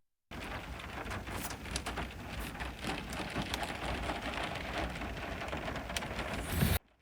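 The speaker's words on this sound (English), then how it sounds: "are now enjoying this unintentional rain ASMR" Steady, dense rain pattering on a surface, with a constant hiss and scattered louder drops, continuous and fairly close, no voices.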